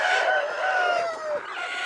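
Native Aseel cross country chickens crowing and clucking nearby, a steady overlapping chorus of birds filling the short stretch with no talk.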